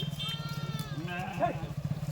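A sheep or goat from a flock bleats a couple of times nearby, short wavering calls heard over people talking.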